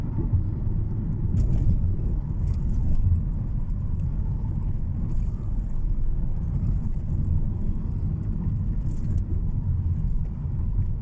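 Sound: car driving along a road in Thailand

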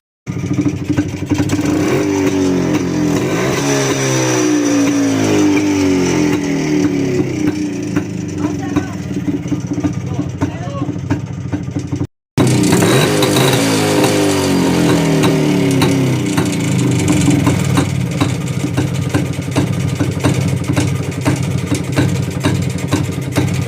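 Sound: Jawa 250cc motorcycle engine starting and running

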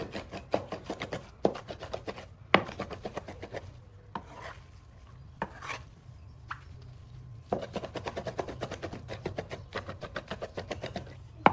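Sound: mixing minced beef by hand

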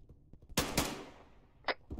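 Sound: gunfire in the video game Arma 3

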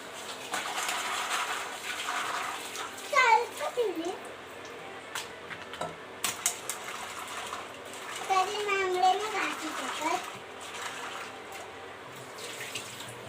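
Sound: crabs being washed and cleaned in running water

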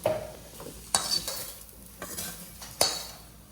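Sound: spices being stir-fried in a pan

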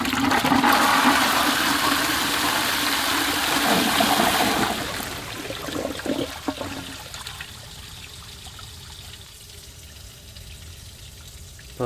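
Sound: old bell syphon cistern toilet flush, quick pull

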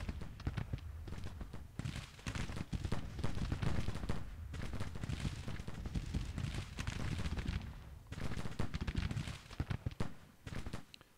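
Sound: musket and artillery fire in the video game Grand Tactician: The Civil War

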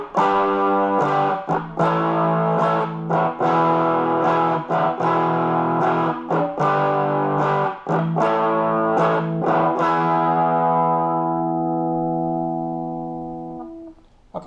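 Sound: guitar amp overdrive distortion, volume full, no added gain

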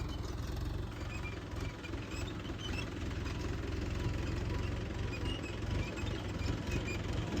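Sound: tractor engine running

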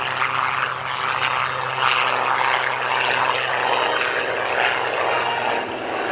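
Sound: propeller airplane engine

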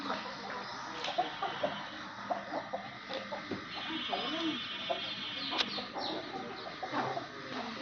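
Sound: chickens clucking

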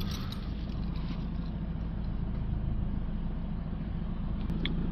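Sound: Mercedes C220 diesel car being started

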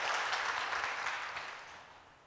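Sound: congregation applauding the worship team

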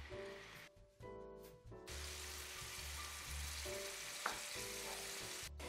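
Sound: chicken meat frying in oil

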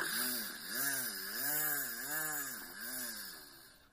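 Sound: person imitating a weed whacker with voice

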